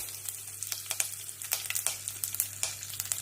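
Asafoetida and other spices frying in hot oil for Karnataka-style avarekai pulao, crackling and popping in quick, irregular bursts over a low steady hum, close and fairly quiet.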